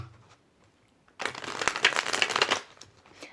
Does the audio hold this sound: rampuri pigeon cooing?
no